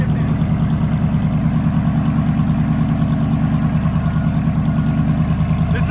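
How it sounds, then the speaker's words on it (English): A RAM truck's 6.4L V8 idles through a true dual exhaust, a loud, close, steady low rumble with an even lumpy pulse throughout. "This is at idle, guys."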